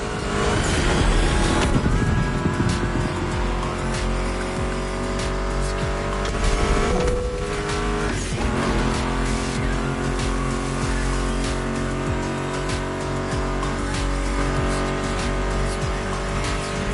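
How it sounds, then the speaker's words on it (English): Muscle car engines from the racing game The Crew roar loud and continuous, revving and shifting with a brief tire squeal, over a steady music track. "Meshes well with the sound of the engines"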